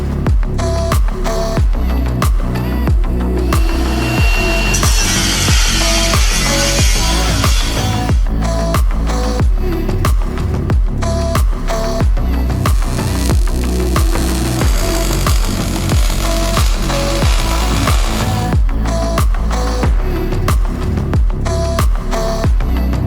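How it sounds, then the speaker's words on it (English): Steady, loud power grinding on the metal of a crew cab truck, a continuous harsh roar broken by rhythmic pulsing strokes over a long stretch, with no speech. "do a little bit of grinding on this and lay a nice bead in there"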